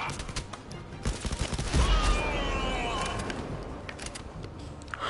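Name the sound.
gunfire in the video game Blood & Truth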